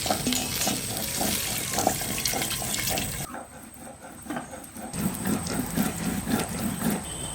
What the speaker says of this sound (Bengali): এবার এই বাটিটা একটু দিয়ে জলটা দিয়ে দিচ্ছি